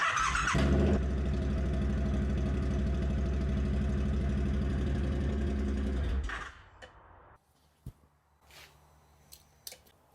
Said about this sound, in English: if I jump on the bike and try and start it now, you'll see that we have the same fault